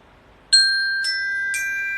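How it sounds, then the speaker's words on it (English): Three bright chime strikes about half a second apart each ring on with a long, clear sustained tone. The chime cues the start of an exercise, with no voices over it. "If you hear this ding dong means that we are beginning a exercise."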